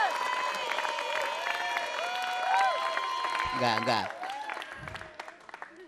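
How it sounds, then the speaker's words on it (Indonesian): A seminar audience applauds steadily at a comic village wayang show, the clapping continuing under loud talking voices before thinning out near the end. "Wah, dapat tepuk tangan."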